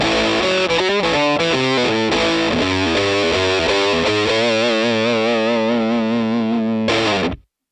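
Electric guitar through a Headrush 2 amp model with an on-axis 57 microphone, a loud distorted riff of quick chugging notes leading into a long sustained chord that cuts off abruptly.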